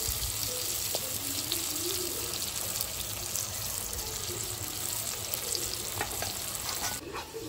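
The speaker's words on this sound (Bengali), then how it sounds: "পেঁয়াজ ভাজা ভাজা হয়ে গেছে" Chopped onions frying with salt in a pan, a steady, moderately quiet sizzle with stirring scrapes and some watery bubbling running unbroken throughout.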